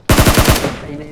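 A quick, loud burst of about five rapid automatic gunshots in a shooter video game, decaying into a short echoing tail.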